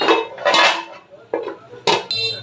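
A metal pot lid set down on a pan of small chapila and chanda fish curry cooking with raw and ripe tomatoes and green chilies, giving several clattering metallic knocks and rattles up close.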